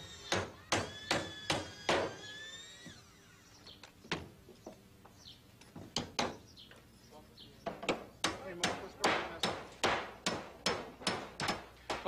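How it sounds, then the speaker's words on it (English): Repeated hammer blows drive nails into wooden deck boards in quick steady runs, with a pause midway and birds chirping faintly in the background. "when you nail the nail in that pilot hole"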